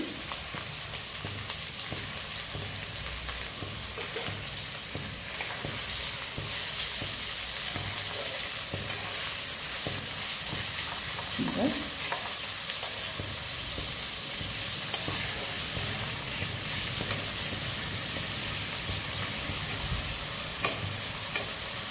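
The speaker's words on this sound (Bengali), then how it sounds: "এই পেঁয়াজটা ভালো করে ভাজতে হবে" Onions frying in a pan for chicken kolhapuri, a loud continuous hiss and crackle of hot oil with occasional stirring scrapes throughout.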